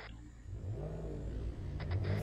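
Car engine revving in the Martinique RP game, a steady mid-pitched drone that rises and swells as the vehicle pulls away, with a few short higher bursts near the end.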